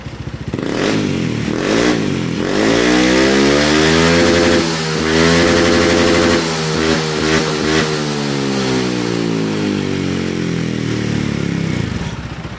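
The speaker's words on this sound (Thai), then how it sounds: "ผมจะลองเล่นตั้งๆดูแล้วกันนะ แต่ไม่เต็มที่เท่าไหร่นะ" A Honda PCX 160 scooter engine revs repeatedly while standing still, loud and close, rising and falling in several sharp bursts with a buzzy, clattering exhaust tone.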